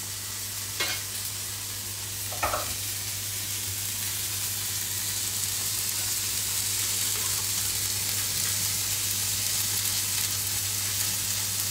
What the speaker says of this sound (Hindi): जो तेल पहले डाला था उसी से मैं इसे बेस्ट भी कर रही हूँ और इसे ब्राउन करने के लिए यूज भी कर रही हूँ